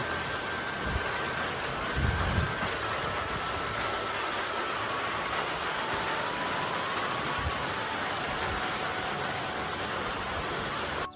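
Light evening rain drizzles over a village in Devrukh in the Konkan, a steady, even hiss that runs unbroken throughout with no voices.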